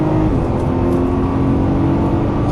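A Ferrari 458 Italia sports car engine on a Las Vegas racetrack pulls steadily after an upshift, giving a loud, continuous, even drone close to the car.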